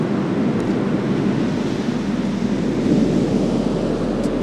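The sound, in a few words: big ocean swell waves breaking on beach at Whitley Bay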